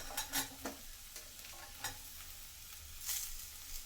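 Grated coconut being stir-fried in a pan for cabbage pulao, with soft sizzling under repeated sharp scraping strokes of a spatula, several distinct stirs spread across a few seconds, close and fairly quiet, no talking.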